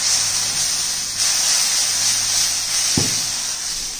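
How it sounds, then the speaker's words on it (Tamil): A ladle of dosa batter poured onto a hot, oiled dosa griddle brings a steady, fairly loud sizzling hiss that runs throughout, with one soft low thud near the end and no talk. "இப்போ நம்ம ஒரு கரண்டி எடுத்து ஊத்திக்குறோம்"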